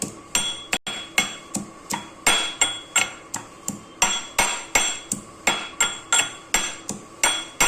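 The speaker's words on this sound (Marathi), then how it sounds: "ह्या 2-4 पाकळ्या लसणाच्या थोड्याशा ठेचून घ्यायच्या आहेत" Two to four garlic cloves crushed in a mortar and pestle, a close, steady series of sharp pounding knocks, roughly two per second, repeating evenly throughout.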